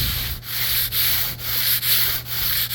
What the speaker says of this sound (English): Just a quick sand with the hand. I think I'm about 80 grit.